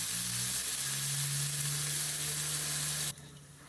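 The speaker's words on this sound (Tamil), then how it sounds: "எண்ணெயில் நல்லா வதங்கட்டும்." Onions and curry leaves sautéing in hot oil, a bright continuous sizzle close by that cuts off abruptly near the end.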